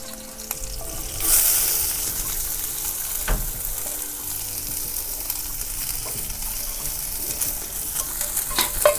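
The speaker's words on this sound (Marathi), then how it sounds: "मिरच्या पण परतून झाल्या ती आता कांदा टाकून घेते" Green chillies and onion frying in a pan for a wild leafy vegetable dish. A steady, fairly loud sizzle runs throughout, with a brief hiss early on and occasional stirring knocks, close by and without speech.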